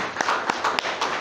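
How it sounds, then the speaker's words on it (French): A few sharp, rhythmic claps ring out from a church congregation, close and fairly loud, spaced in a quick beat over roughly a second. "On applaudit d'abord pour nos frères."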